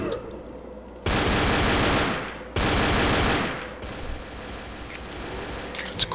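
Gunfire in the game Left 4 Dead, two long, loud, dense bursts of rapid shots, each a little over a second, then quieter ambience with a few faint noises.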